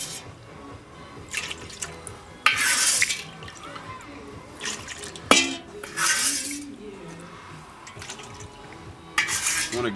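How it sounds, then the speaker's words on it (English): Water running into a sink while a dirty pot from frying pork cracklins is scrubbed, bursts of gushing tap flow alternating with pauses filled by metallic clanks and scraping, fairly close and loud. "go ahead and clean your pot"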